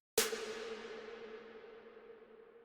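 One snare hit lands crisply and blooms into a long, washy hall reverb from Valhalla Vintage Verb that slowly decays over a couple of seconds.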